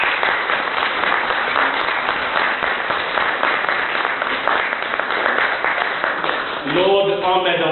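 An audience at an award ceremony at the House of Parliament claps for the host, steady applause filling the room throughout, with a voice starting to speak at the very end.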